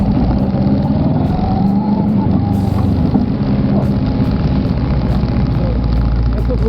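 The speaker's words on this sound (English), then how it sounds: "standing, accelerate, front brake only, look at Joe." An adventure motorcycle pulls away from a standstill under throttle with only the front brake in use, its steady engine drone loud and close throughout, with brief voices mixed in.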